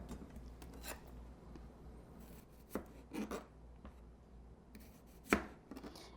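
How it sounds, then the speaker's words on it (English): A knife chops cucumbers into quarter-inch slices for sweet pickle jars, with quiet sharp cuts and board taps spaced irregularly, louder strikes near the middle and end, recorded close and alone without talk. "So we're going to start cutting them for the jars."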